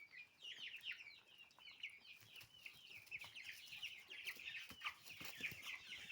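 Cobb 500 broiler chickens kept at home, about 34 days old, cluck and chirp continuously while eating and drinking, with a busy overlapping chorus at moderate, fairly quiet distance and small pecking taps underneath.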